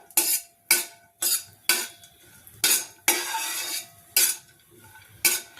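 Dry fruits roast in ghee in a pan for makhana kheer, stirred with a spoon in a steady series of loud scraping strokes, about one each half second, over a faint background sizzle.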